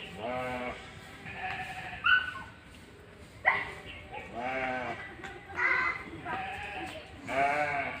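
Goats bleating repeatedly, loud and near, with several wavering calls in quick succession and brief pauses between them.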